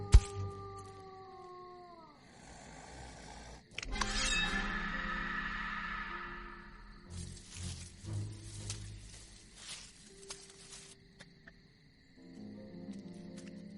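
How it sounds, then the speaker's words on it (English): A wolf lets out a long, loud howl that slides downward near the start, followed by a sudden crash and a stretch of rustling, chirping wildlife sounds with no talking. "And then a wolf howl."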